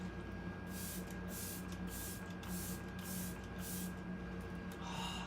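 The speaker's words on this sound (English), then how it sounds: "we're gonna go back to that setting spray that we used at the beginning of the video, and I'm just gonna go over my face with it really quickly" A setting spray misted over the face in short, quick bursts during a makeup routine, soft airy hisses repeating close by over a steady background hum, with no talking.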